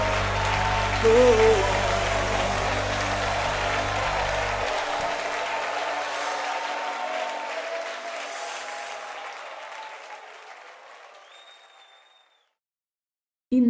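A church congregation at a Portuguese-language worship service claps loudly, with a music bed under it. The applause swells, then fades out over several seconds into silence, and a brief exclamation is heard.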